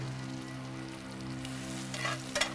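Onions fry on a wood-and-charcoal grill, giving a steady, close sizzle over a low hum, with a couple of brief stirring scrapes near the end and no voices.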